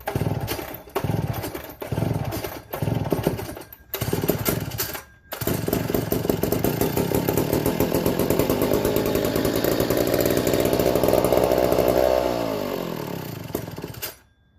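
A McCulloch 1-50 chainsaw with a carburetor that struggles to take fuel sputters in uneven bursts, then catches and runs loud and steady up close before the engine winds down at the end.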